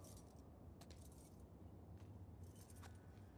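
A set of keys jangles and clinks quietly as they are tried in a lock in The Last of Us Part II video game. A few faint metallic rattles are heard against a low, steady indoor hum at an aquarium.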